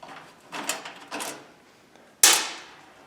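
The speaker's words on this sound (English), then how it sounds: "Now that'll take the door loose." A microwave oven door being pried and knocked loose from its steel frame during scrapping, with two scraping metallic efforts followed by a sharp clattering crack that rings out and fades, close and alone.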